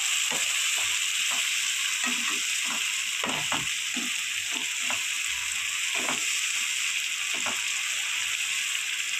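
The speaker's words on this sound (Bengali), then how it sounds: "এটা আবার কষিয়ে নিই ভালো করে, তেল ছেড়ে যাওয়া অবধি" Rui fish spice paste with poppy seed frying in oil in a pan: a steady bright sizzle throughout, with soft, irregular scraping and stirring taps of a spatula every second or so, with no talk.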